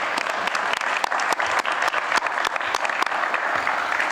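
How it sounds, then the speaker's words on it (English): An audience at a fair housing event in California claps for the panel moderators: a dense, even round of applause from many hands, loud and close, lasting a few seconds with no speech over it. "So please give you a round of applause to our moderators."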